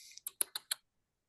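Quick keystrokes clatter on a computer keyboard, five sharp clicks in an uneven burst after a soft rustle, close and fairly quiet, then silence.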